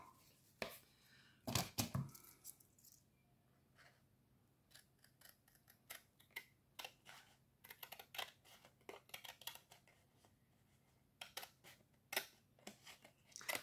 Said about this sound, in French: J'ai dit que j'allais couper un petit bout là.